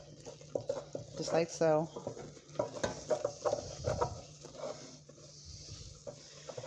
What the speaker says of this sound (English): you're going to give it a good old stir to combine everything together